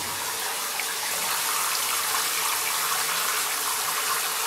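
Shower water runs steadily into a bath, a constant close hiss and splash that is even and unbroken, with no talking.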